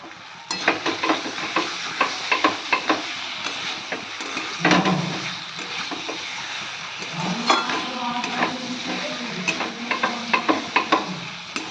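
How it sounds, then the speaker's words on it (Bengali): Spices for a fish curry are sautéed in a pan, with a steady sizzle broken by repeated close scraping and clacking spatula strokes, plus brief hissing bursts. "একটু ভালো করে কষিয়ে নিয়ে তারপরে এবার জল দেব"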